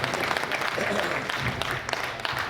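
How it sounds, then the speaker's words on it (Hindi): Audience applause at a Mumbai birthday event honouring Ratan Tata, a steady dense patter of many hands clapping at moderate level for a couple of seconds, with murmuring voices mixed in. "जरा जोरदार तालियों से उनको आशीष दो"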